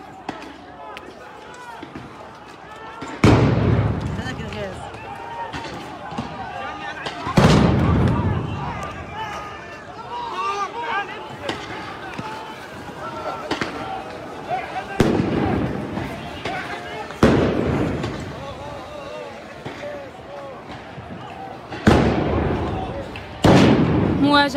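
Stun grenades and tear gas canisters fired by occupation forces during clashes at Al-Aqsa Mosque, heard as repeated sharp loud bangs at irregular intervals over a constant din of crowd voices and shouting.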